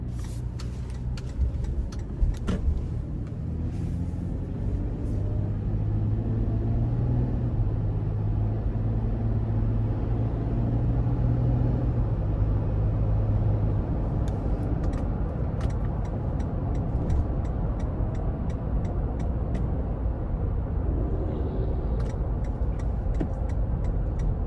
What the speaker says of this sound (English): take this 4Runner TRD Off Road Premium out on the road for a quick test drive